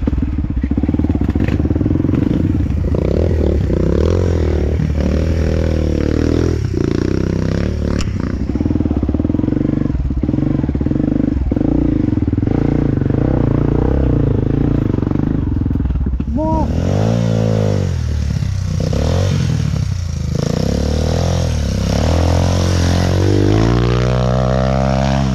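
A trail motorcycle climbs a dirt trail, its engine revving hard and continuously at close range with clattering and thuds. Voices speak over the engine in places.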